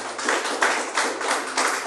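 A church congregation claps in praise to Jesus during a worship service, a loud steady run of hand claps in rhythmic waves over a low electrical hum.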